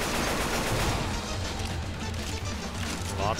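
Rapid gunfire in Left 4 Dead 2 as gas cans are shot, a dense continuous barrage of loud crackling shots and crashes filling the whole stretch, with a brief rising whine near the end.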